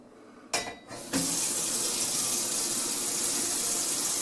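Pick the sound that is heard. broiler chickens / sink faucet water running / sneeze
sink faucet water running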